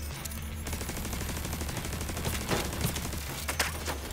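Steady sustained turret fire in The Division 2, a dense continuous rattle of rapid shots at moderate distance, with no voices over it.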